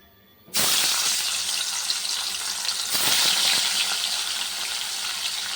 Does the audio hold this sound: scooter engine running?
no